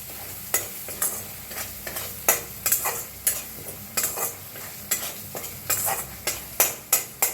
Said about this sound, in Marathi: हळद टाकून बी छान असं भाजून घेऊया